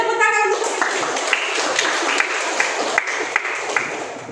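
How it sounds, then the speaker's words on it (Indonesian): Students in a classroom break into steady applause with scattered sharper claps throughout, just after a brief bit of talking at the start. "Ya, beri tepuk tangan untuk."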